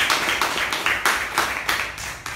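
A small meeting audience gives a brief round of clapping for a Toastmaster, uneven claps in bursts close to the recorder, with no speech over them.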